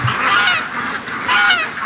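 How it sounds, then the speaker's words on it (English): Geese honk loudly and close by in repeated nasal calls, a cluster of overlapping honks, a brief lull, then another burst. "Oh, the geese."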